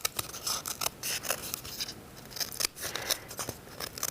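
Scissors snip and slice through paper being trimmed for a craft fairy house, a close, continuous run of crisp cuts and rustles with quick irregular strokes and no talking.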